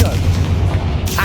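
The Confringo blast spell in Hogwarts Legacy fires as a deep, rumbling boom that holds steadily through the moment, with a voice heard alongside the low roar.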